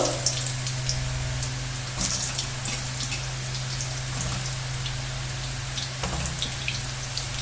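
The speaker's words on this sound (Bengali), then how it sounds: "তেলটা কিন্তু আমার গরম হয়ে গেছে। আমি কিন্তু এতে এই যে একটু কালো জিরে ফোড়ন দিয়ে দিচ্ছি।" Nigella seeds sizzle in hot oil as pointed gourd fries in the pan, a steady close crackle with scattered pops and a low constant hum underneath, brief louder bursts of spitting around the middle and near the end.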